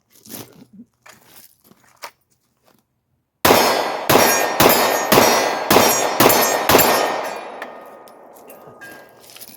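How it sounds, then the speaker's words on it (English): A Glock 43 pistol is drawn from a holster and fired outdoors, starting with quiet handling clicks and then six sharp, loud shots in a fast, fairly even string, each with a ringing tail that fades after the last. "We're gonna shoot the Glock 43. Do a holster draw."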